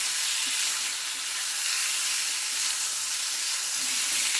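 Chicken pieces sautéed with spices for a gravy chicken curry give off a steady, soft sizzle and steam hiss throughout, with faint stirring scrapes and no talking.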